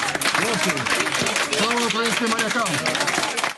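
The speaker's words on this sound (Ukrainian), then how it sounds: "Наших хлопців під дверима залу зустрічали, як і вчора, оплесками." Applause greets Ukrainian sailors outside a courtroom door: a steady patter of many hands clapping at close range, running the whole time beneath a voice talking over it.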